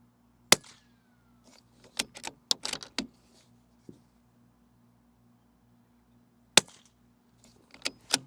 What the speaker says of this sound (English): I'll do a couple of rounds just down into the dirt so you can hear just how the suppressor itself sounds